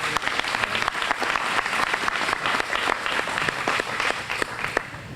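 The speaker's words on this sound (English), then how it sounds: "Can we get a round of applause for our panel," An audience at an agriculture field day luncheon applauds a panel, a dense steady patter of many hands clapping for several seconds.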